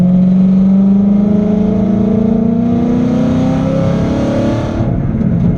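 A 2011 Ford Mustang's Coyote V8 with a 90 mm throttle body revs up under hard acceleration, its loud engine tone climbing steadily in pitch before easing off near the end.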